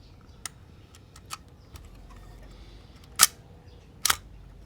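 A Zenit EM M42 film SLR fires its shutter in bulb mode, giving a few faint mechanical ticks and then two louder, crisp clacks about a second apart, alone and close up.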